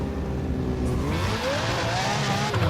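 In the video game Burnout Paradise, a car's wheels spin on the road, giving a loud continuous engine roar with a rising whine and tire squeal throughout the short stretch.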